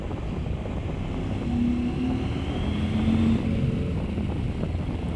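Motorcycle engine droning steadily while climbing the Col de la Croix de Fer mountain pass in Savoie, a continuous close, loud rumble with wind rush and no talk.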